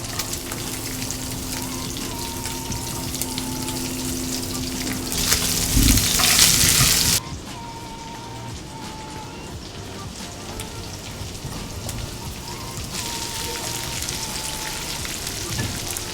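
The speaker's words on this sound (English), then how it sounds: "I like to add onion to it right now. That way our onion nice and sauteed with that bacon flavor." Onions sautéing in bacon fat in a pan give a continuous frying sizzle, with a brief louder crackling burst midway before settling back into a steady, close hiss.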